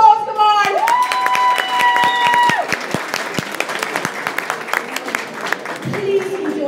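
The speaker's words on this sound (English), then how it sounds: "Let's give him a round of applause." Audience breaks into a sustained round of applause at an evening product launch celebration, steady dense clapping filling the room from start to finish, with a few tonal musical notes and a voice near the end.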